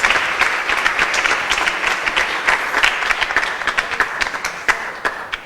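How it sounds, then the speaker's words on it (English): An audience at an awards ceremony for a book marathon breaks into a sustained round of applause, dense clapping filling the room steadily from start to finish with no voices over it. "Let's give everyone a round of applause for that."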